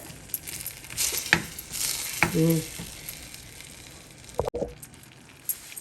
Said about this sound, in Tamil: இப்போ இந்த மாதிரி தக்காளியை நல்லா மசிச்சு விட்டுக்கோங்க